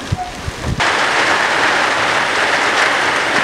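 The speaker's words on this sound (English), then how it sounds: "It's starting to rain and blow now." A few soft knocks, then a sudden steady hiss of rain and gusting wind takes over outdoors on the Alaska Peninsula, constant and fairly loud.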